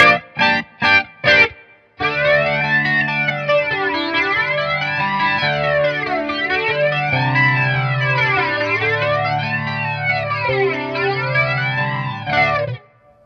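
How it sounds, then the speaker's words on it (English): Clean electric guitar through a Fender Twin Reverb Tonemaster amp with swirling chorus and sweeping flanger, a few short plucked notes then a long sustained chord that whooshes up and down. "Can we have multiple mods, chorus and flanger?"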